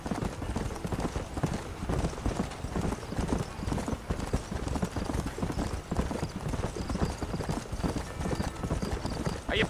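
Horse hooves gallop in a steady, rapid clip-clop across open ground in the Western game Red Dead Redemption, loud and continuous throughout, with a faint whinny and a soft game soundtrack underneath.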